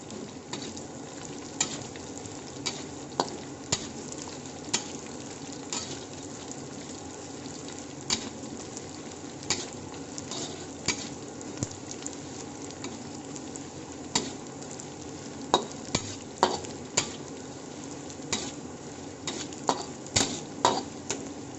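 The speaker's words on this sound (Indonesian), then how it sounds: "Nah, baru kita goreng" Steady oil sizzle of jengkol frying in a pan for balado, continuous throughout, with occasional sharp clicks and taps of utensils against the cookware.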